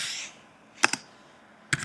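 Computer keyboard typing while laying out a flyer, two short bursts of a couple of clicks each, close and crisp with a pause between them and no talk.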